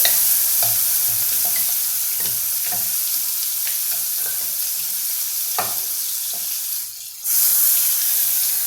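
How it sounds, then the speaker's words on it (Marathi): Masala spices dropped into hot oil with asafoetida and turmeric for an Indrahar curry, sizzling steadily and close while a spoon scrapes and stirs with light taps, briefly muffled near the end. "आता हा जो मसाला आहे हा मसाला मी यामध्ये टाकतो"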